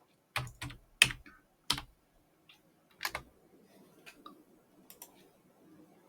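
Typing on a computer keyboard, with a handful of sharp, close key clicks spaced irregularly, then quieter tapping and faint background noise.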